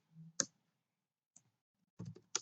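Keys are struck on a computer keyboard while a database update command is typed, a few sparse, close clicks separated by short silences.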